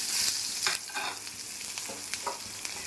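Chopped garlic, chopped onion and slit green chilies hit hot oil in a pan after fried fish is lifted out, giving a crisp sizzle with intermittent stirring scrapes and clatter, close and fairly loud, no talking.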